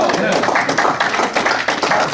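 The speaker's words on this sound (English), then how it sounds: "we'd be clapping for the landfill general manager of any community" Audience at a county board meeting applauding the landfill general manager, steady dense clapping filling the room.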